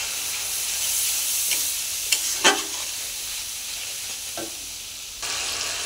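Ground spices, salt, turmeric, chili powder and cumin, sizzling in hot oil in a pan while being stirred, a soft continuous hiss broken by a few distinct scraping stirs near the middle, fairly faint and without talk.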